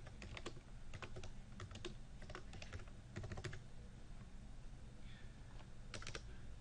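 Someone types an email signature on a computer keyboard, with quiet, close bursts of key clicks separated by brief pauses and a low background hum.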